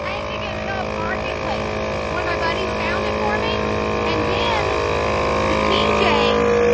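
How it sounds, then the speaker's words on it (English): An ARB air compressor runs steadily in the foreground, a continuous motor drone with a constant tonal hum that holds level and grows slightly louder toward the end, while people talk faintly under it. "That is a really nice compressor."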